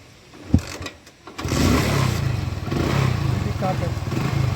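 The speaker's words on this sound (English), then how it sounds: "Now you have to start the engine." An automobile engine cranks with a few clicks and clatters, then catches and settles into a steady, moderately loud idle that runs for the rest of the span without any voices.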